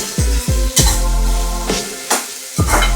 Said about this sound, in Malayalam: ഒട്ടും സമയം കളയാതെ നമുക്ക് വെണ്ടയ്ക്കൊന്ന് മെഴുക്ക് വരട്ടി എടുക്കാം